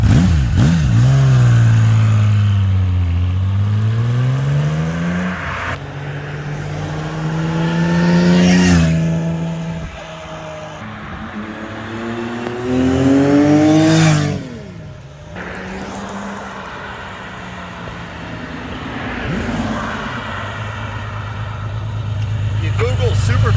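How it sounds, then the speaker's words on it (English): A 1982 Kawasaki KZ1300 six-cylinder motorcycle on its stock exhaust revs repeatedly, engine pitch climbing and falling in long smooth sweeps between idle, loud and close. "The stock exhaust sounds great."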